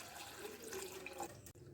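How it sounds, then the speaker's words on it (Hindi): Cold water pours from a tap into a bowl of cut potatoes for French fries, a steady, faint rushing splash that cuts off abruptly near the end. "इसके बाद हम इसमें डालेंगे ठंडा पानी।"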